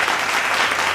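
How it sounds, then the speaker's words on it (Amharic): A crowd claps together at a live stage event, a dense and steady burst of applause that stays loud and even for the whole second, with no voices over it. "አጨብጭቡላቸው።"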